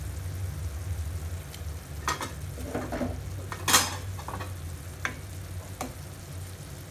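Fried prawns and sliced tomatoes go into a pan of curry and are stirred, giving soft sizzling under scattered scrapes and clinks of a utensil against the pan, close up with a low background hum.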